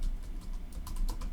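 Typing on a computer keyboard while entering a search into Google, a quick run of soft, close keystroke clicks in a short burst with no voices.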